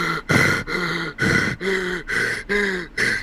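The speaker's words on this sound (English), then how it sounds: "heavy breathing" Heavy, rhythmic breathing in a wrestling promo, about seven loud, voiced gasping breaths in a steady cycle, close and prominent with no other sound.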